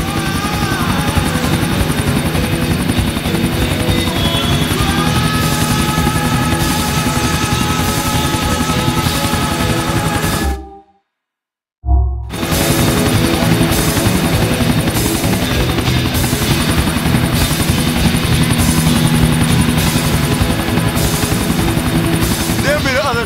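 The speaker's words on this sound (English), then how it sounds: "There be the other chopper." A helicopter flies in the video game GTA IV, a loud, continuous rotor thrum with a steady chopping pulse, cutting out briefly to silence near the middle before resuming, with voices talking over it.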